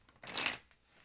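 A deck of tarot cards being shuffled, a single brief riffle of papery flutter that swells and fades within a second, close and fairly quiet, with no talking.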